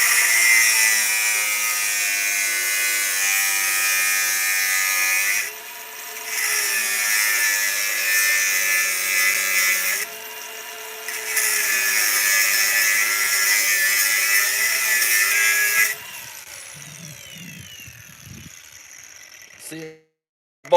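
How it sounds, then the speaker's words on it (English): Angle grinder with no guard cutting through hay baler knife rivets, a loud, steady high-pitched whine running continuously with two brief dips, then trailing off into quieter clatter. "Yeah, I'm gonna throw some sparks around. Go for it. And no, I don't have the guard on the grinder."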